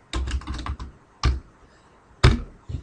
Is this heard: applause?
no